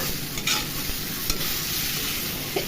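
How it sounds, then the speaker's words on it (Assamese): Boiled jackfruit and potato pieces fry with spices in a pan, a soft steady sizzle broken by a few scraping stirs, close and fairly quiet with no voices. "অকণমান দেৰি ভালধৰণে ভাজি ল'ম মছলাখিনিৰ লগত আলুখিনি"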